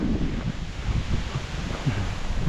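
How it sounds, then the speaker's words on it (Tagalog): Strong outdoor wind gusting steadily against the microphone, a continuous low buffeting roar with faint rustling, no voices. "Lakas pa rin ang hangin."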